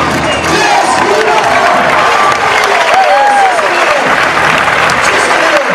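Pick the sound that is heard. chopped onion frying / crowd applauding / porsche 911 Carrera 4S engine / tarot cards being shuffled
crowd applauding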